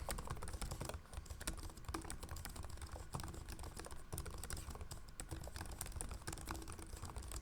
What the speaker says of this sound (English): This is a typing test of the Ideapad 5 Pro keyboard.